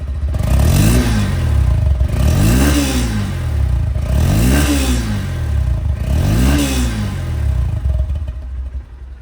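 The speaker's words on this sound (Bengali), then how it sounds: "বাইকটা আগে সাউন্ড শোনাবো তাকে" A 2021 Honda X Blade motorcycle engine revved four times in an even rhythm, each rise and fall loud and close, over a rough idle that settles at the end.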